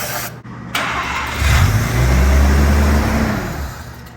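A rotary engine with no fuel reaching it cranks over with the throttle held open: a click and brief starter whine, then a steady, loud churning crank for a couple of seconds that never catches and tapers off.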